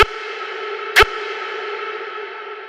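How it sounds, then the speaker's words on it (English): A sustained vocal sent through a huge reverb effect washes out and slowly decays, with two short clicks at the start and about a second in. "I'm gonna send it to a huge reverb. So now it sounds like this."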